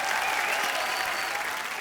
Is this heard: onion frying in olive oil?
no